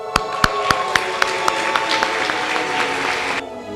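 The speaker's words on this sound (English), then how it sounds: "a big round of applause for all of you" An audience gives a big round of applause: a dense, loud wash of clapping with a few sharp, prominent claps near the front, holding steady for about three seconds before cutting off abruptly.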